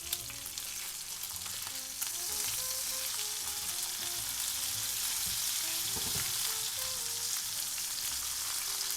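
Rainbow fish fillets fry in a pan, giving a loud, continuous sizzle of hot oil close up that stays even throughout with no talking.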